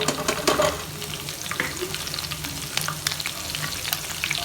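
Cumin seeds and chopped green chillies sizzle and crackle steadily in hot oil for a moong dal tadka, a dense, continuous frying hiss heard up close with a few sharper pops near the start.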